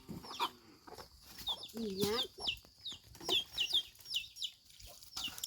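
Chickens cluck close by in a rural home setting, with a rapid string of short, choppy clucks and squawks overlapping one another and a brief, faint voice in the background.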